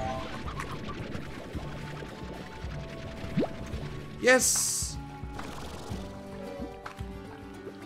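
Water in the video game Slime Rancher gives a short, bright splash partway through, amid light liquid and mechanical game sounds, while a player talks and exclaims over it.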